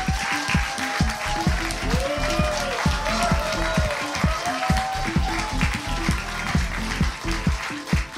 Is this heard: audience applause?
yes